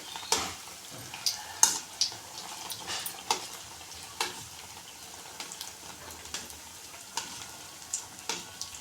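Bread pieces frying in hot oil in a pan for bread halwa give a soft, steady sizzle with scattered light clicks and turning taps throughout, close and fairly quiet.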